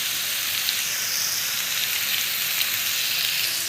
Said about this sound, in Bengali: আমি ভেজিটেবলটা একটু ভাজা করব।